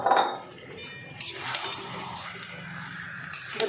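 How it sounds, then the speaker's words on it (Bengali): Chicken meat goes into a pot while cooking chicken pulao, with a clatter of metal pot and utensil at the start, then a soft sizzle and occasional clinks from close by. "আমি এবার মাংসগুলো এর মধ্যে দিয়ে দেবো।"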